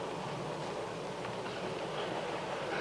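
A steady, loud rumbling roar of a train moving along rails, with a continuous broadband rush and no distinct clacks.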